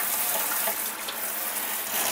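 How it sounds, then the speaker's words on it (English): Hot water runs steadily from a kitchen faucet into a bowl, a continuous hissing splash close by with no talking. "turn on some really hot water in your faucet"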